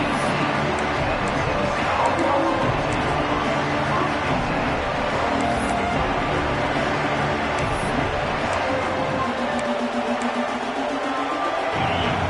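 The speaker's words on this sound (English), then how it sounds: "It's early, but this crowd is fired up. Listen to this noise here." A large crowd roars steadily throughout at a football game, a dense wash of cheering and shouting with no break, heard from within the stands.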